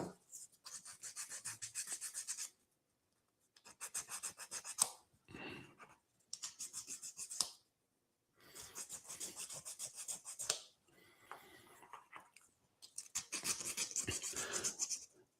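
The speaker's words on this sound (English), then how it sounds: "sand them down" Plastic puzzle-cube pieces being sanded by hand in bursts of rough, rasping rubbing, several separate strokes of a few seconds each with short pauses between, close and fairly quiet with no talking.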